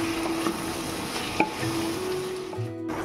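Eggplant stirred into frying chicken curry with potatoes and tomato, a close sizzle broken by a few spoon scrapes and a sharp clink against the pot, no voices.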